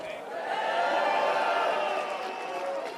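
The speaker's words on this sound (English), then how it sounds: "Man, that is a big crowd." A large crowd at CPAC cheers and applauds in a sustained, loud wash of voices and clapping that swells and holds steady throughout.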